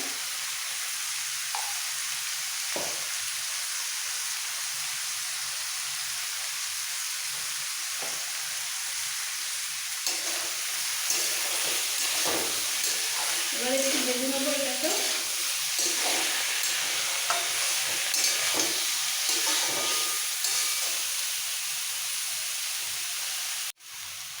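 Food sizzles steadily in a hot pan with salt and turmeric, a continuous frying hiss, occasional stirring clinks, and a brief faint voice partway through.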